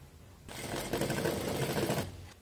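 A sewing machine stitches with straw-coloured thread while making a place mat, a steady fast rattling hum starting abruptly, running close and loud for about a second and a half, then stopping.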